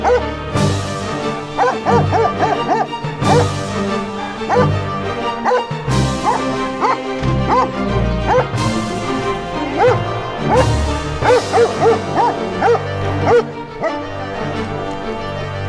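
A dog barks repeatedly in close, loud volleys, rhythmic woofs mixed with higher yips and whiny notes, barely pausing throughout.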